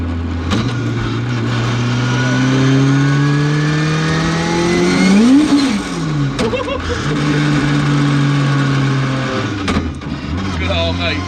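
An 800 bhp Honda S2000-powered Mk2 Ford Escort with a sequential gearbox accelerating hard, engine pitch climbing and dropping through quick gear changes, loud and close, with brief talk over it.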